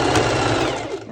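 A sewing machine makes a short, loud burst of straight stitching over the strap of a sporty top, then slows and stops.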